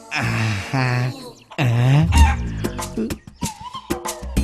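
A chicken clucks in short, loud, close bursts, mixed with voices talking over and between the calls in an indoor film scene.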